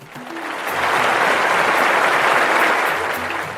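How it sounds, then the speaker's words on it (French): A crowd at an African village contest of spear-throwing bursts into sustained applause and cheering, a dense wash of clapping that swells within half a second and holds steady before easing slightly at the end. "La foule l'acclama."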